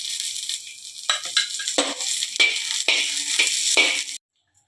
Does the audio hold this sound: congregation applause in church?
no